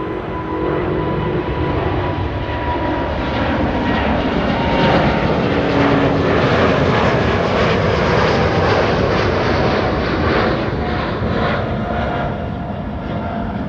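A TUI Boeing 787 Dreamliner bound for Curaçao thunders past at Amsterdam Schiphol, a loud, close, steady jet roar with a slight swell in the middle and no talking.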